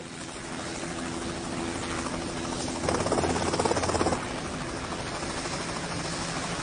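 A helicopter drones steadily with a broad, rumbling noise that swells louder for about a second midway, then settles back to a constant roar.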